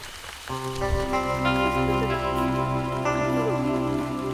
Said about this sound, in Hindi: बारिश भी तेज हो रही है